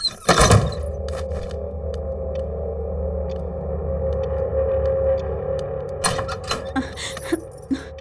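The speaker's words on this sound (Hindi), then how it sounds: "ये आवाज कैसी? रेडियो लगाया था मालिक।" A steady low radio hum drones on for several seconds, loud and close, with a sharp burst near the start and clattering knocks toward the end.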